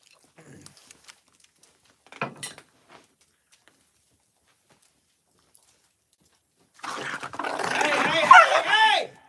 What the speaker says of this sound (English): Did y'all see that dog fight that took place right there under y'all's noses?